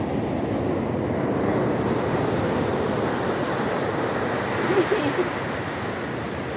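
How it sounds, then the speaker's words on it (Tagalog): Heavy surf crashes and roars continuously, dense and loud, with wind buffeting the microphone throughout. "Malakas yung alon."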